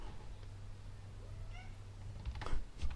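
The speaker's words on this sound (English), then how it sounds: "That's my cat." A house cat meows once after its tail is touched, a faint, short meow over a steady low hum, followed by a few soft knocks and shuffling sounds.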